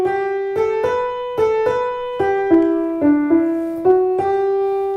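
A single sustained middle voice from a Bach chorale arrangement moves stepwise through a slow sequence of clear held tones, played alone with gentle note attacks at a calm, even pace.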